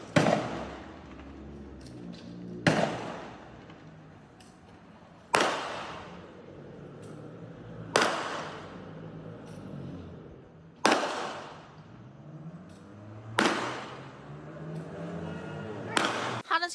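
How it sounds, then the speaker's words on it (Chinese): Gunfire rings out at night in front of a temple in Tainan as two groups exchange nearly ten shots. Six sharp, loud bangs, each with a long echoing decay, come at roughly even intervals several seconds apart. "可以听到呢，枪声不断的。"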